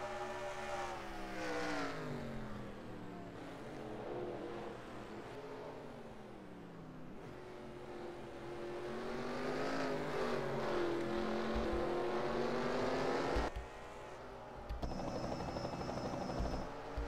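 Engines of racing cars roar at the green-flag start of a Grand Prix race at Le Mans, France, a steady droning whine with shifting pitch that rises and falls, fairly faint and distant, with no talk over it.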